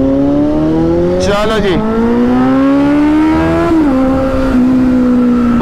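A Kawasaki Z900 motorcycle pulls away and accelerates through city streets with a loud, rising engine note that climbs steadily through its gears. A rider talks briefly over it.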